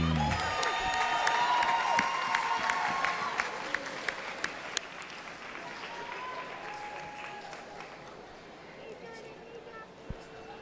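Spectators at a district swim meet give a round of applause for the girls' 200-yard freestyle finalists, a steady wash of clapping and crowd noise in a reverberant natatorium, with a voice and whistle-like tones over it.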